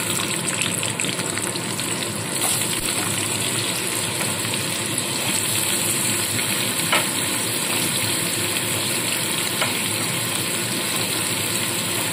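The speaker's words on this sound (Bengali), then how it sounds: "সমস্ত সবজিগুলো এবার আমি একসাথে ভেজে তুলে নেব। প্রথমে দিয়ে দিচ্ছি গাজর" Carrots and mixed vegetables frying in oil, a loud, dense, unbroken sizzle that holds steady throughout with only faint bumps, no talking.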